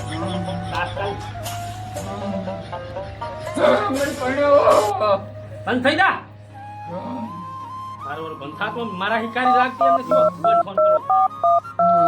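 A telephone is dialed in a Gujarati comedy skit. People talk and fuss at first, then a quick run of evenly spaced keypad beeps sounds near the end.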